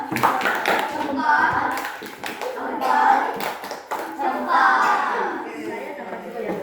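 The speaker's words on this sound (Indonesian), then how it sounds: "Ya, tepuk jempol." A group of schoolchildren performs the thumb clap, bursts of rhythmic hand clapping close by, with the children's voices chanting along in between.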